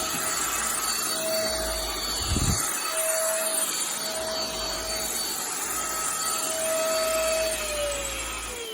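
A FixtFixer 350W cordless stick vacuum runs on carpet at its second power setting, giving a steady, close whirring hum with a thin high whine. A brief low thump comes early, and the pitch sags slightly near the end.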